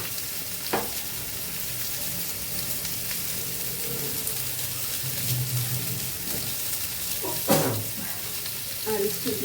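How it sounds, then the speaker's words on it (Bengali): Turmeric, salt and spices sauté in a pan for a tangy katla fish curry with raw mango, a soft steady sizzle with occasional clinks and scrapes of stirring, fairly close and moderate in level. "এটা একটু ভালো করে কষিয়ে নেব।"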